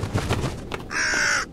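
A single loud, drawn-out caw from a crow in the Jisatsu haunted Japanese house game follows a few soft knocking sounds, standing alone and close.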